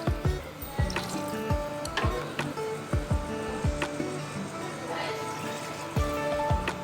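Water is poured into a pot of beef yakhni pulao, heard as a run of splashing, gurgling pours and drips with a few sharp knocks, close and moderately loud.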